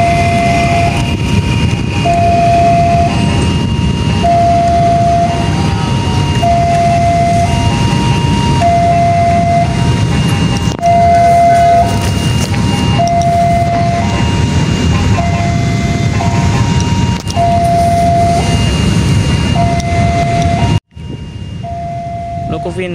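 A locomotive moves through Sidotopo station in Surabaya, a loud continuous rumble under a level-crossing bell that rings in a steady repeating pattern, with voices heard and a sudden cut near the end.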